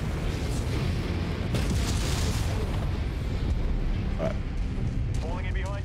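A mech blows itself up like a bomb in MechWarrior 5: Mercenaries, a deep rumbling explosion roar that swells and rolls on for several seconds amid continuous battle noise.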